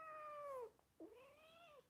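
A house cat meows twice close to the microphone, a drawn-out descending cry followed after a short pause by a second rising and falling meow, clear against a quiet room.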